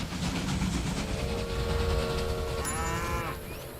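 Cattle lowing from a freight train's livestock cars in the Railway Empire game, a couple of drawn-out moos over steady rail rumble, with a brief whistle-like tone near the end.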